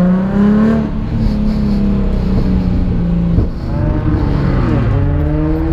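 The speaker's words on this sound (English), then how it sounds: "They're already doing donuts" Cars doing donuts at a weekly Walmart parking-lot car meet: a loud engine holds a high rev, sweeping up and down in pitch as it spins, with more engine noise layered close by throughout.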